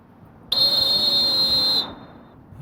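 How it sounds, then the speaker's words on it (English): A dog handler blows a recall whistle to a retriever at a field trial, giving a single loud, shrill, steady blast of just over a second that starts abruptly and then cuts off, with quiet ambience before and after. "Now that staccato whistle means come on back to me."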